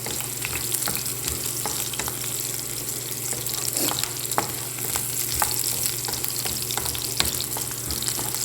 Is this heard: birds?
no